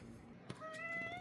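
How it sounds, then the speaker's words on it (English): A pet cat, a male, lets out a single clear drawn-out meow indoors, close and distinct after a brief click, with no talking. "Here's the cat saying goodbye."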